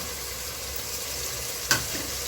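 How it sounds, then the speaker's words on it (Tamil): Whole onions with garlic and cumin frying in a pan, a steady close sizzle with one brief clatter of stirring partway through. "இப்போ பச்சையாக எடுத்து வச்ச வெங்காயம் முழுசு முழுசாக போட்டுடலாங்க"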